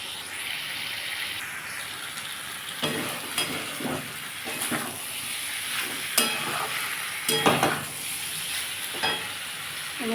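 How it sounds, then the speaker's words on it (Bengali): Fried pointed gourd pieces are tipped into sautéed potatoes in a pan for a fish curry, with a continuous hiss of frying and bursts of stirring and scraping at close range. "আমি এবার এর মধ্যে ভেজে রাখা পটলগুলো দিয়ে দেবো"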